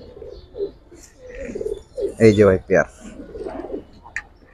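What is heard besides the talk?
female pigeon cooing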